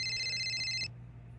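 A mobile phone rings with a steady electronic ringtone, fairly close and clear. It cuts off after under a second, leaving only a low background hum.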